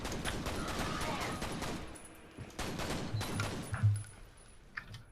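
Rifle shots from a sniper tower at spawning enemies in FEAR Extraction Point on PC, a string of sharp cracks amid dense gunfire, some close and loud, others fading, over a busy combat background.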